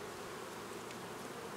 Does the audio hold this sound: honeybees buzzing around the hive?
yes